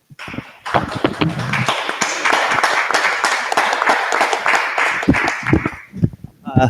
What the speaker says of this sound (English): So if everyone could put their hands together,